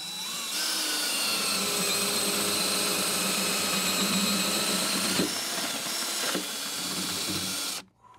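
A right-angle drill bores through basement floor joists, a loud, steady mechanical whir that runs unbroken for several seconds before cutting off abruptly at the end.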